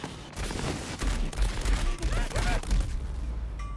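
Bursts of rapid gunfire in the video game Borderlands 3, dense and crackling, fired in uneven volleys over game music and effects.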